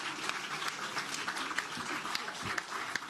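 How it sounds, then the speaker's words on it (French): Audience at a singing contest applauds a contestant named Floriana, a moderately quiet, steady patter of clapping with a few sharper individual claps. "on l'applaudit"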